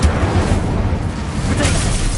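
Confringo and Incendio spells fire in quick succession in Hogwarts Legacy, loud, close bursts and rumbling blasts running continuously, with a brighter flare of noise near the end.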